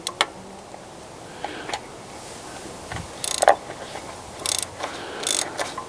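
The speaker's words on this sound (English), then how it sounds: "So we'll go ahead and remove these spark plugs" A ratchet wrench works loose the spark plugs on a Peugeot 206 engine. A few short bursts of clicking ratchet come with scattered metallic taps, fairly quiet and without speech.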